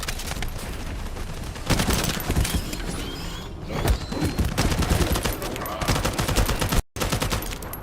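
Gunfire in The First Descendant video game, dense rapid bursts and shots over a constant mechanical clatter and creaks, loud and close, ending with a short dropout.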